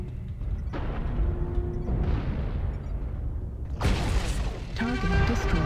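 Incoming weapons fire pounds a mech in MechWarrior Online, a dense run of booms and impacts rolling on continuously, with sharper bursts near the end, loud and close throughout.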